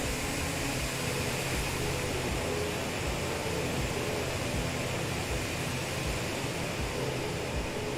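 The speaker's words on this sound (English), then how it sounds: "it's only just started the engines" ATR 72-600 turboprop engines running just after start in Microsoft Flight Simulator, a steady broadband whir and hum that holds level and continuous throughout with no voices.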